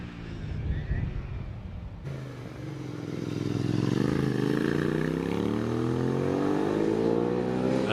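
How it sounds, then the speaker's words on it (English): A Suzuki 650 road motorcycle at a Prescott hill climb, its engine rising in pitch as it accelerates and revs harder, loud and fairly close, with a steady throaty note that builds and holds. "Very much a road bike, Ron King's Suzuki 650."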